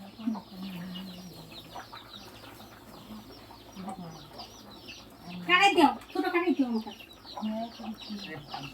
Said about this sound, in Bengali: মুরগি দৌড় মারছে রে।